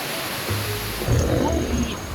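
Ocean waves washing at Imwon harbour in Samcheok, a low rumbling surge that builds midway through a steady wash of surf noise, fairly close.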